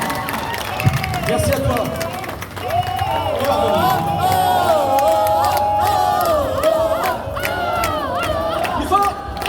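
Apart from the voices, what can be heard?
audience applauding and cheering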